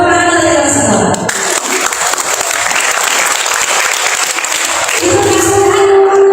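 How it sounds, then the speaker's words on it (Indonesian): Audience applause at a city job fair interview workshop, a dense steady clapping that fills most of the clip, with a voice speaking over a music bed at the start and again near the end. "Tepuk tangan kalian semua."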